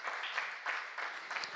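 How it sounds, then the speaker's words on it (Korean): A church congregation applauds during a Sunday afternoon worship service, a dense, steady clapping that continues without a break. "감사의 박수 할렐루야"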